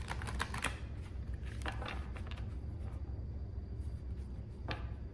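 A deck of tarot cards is shuffled by hand, giving quick papery riffles and flicks with a few sharper snaps, close and fairly quiet, no voices.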